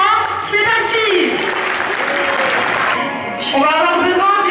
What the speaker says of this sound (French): ils ont besoin de vos applaudissements